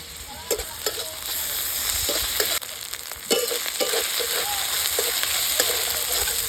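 Ginger paste and spices fry in hot oil, a continuous close sizzle broken by a few sharp spoon scrapes and taps as the mixture is stirred.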